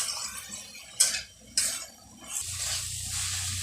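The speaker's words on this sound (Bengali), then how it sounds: "ভালোভাবে নেড়ে চেড়ে ভেজে নেব।" Water spinach (kolmi shaak) stir-fried in a pan with onion, salt and sugar: two sharp utensil clanks early on, then a steady close sizzle and stirring noise.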